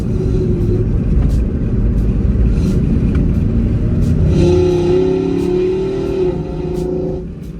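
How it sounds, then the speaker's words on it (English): A Nissan Skyline R34 engine roars steadily with a deep rumbling exhaust and snorkel intake noise, rising in pitch as it revs, loud and close throughout. "You listen to that that intake sound on the exhaust, on the snorkel."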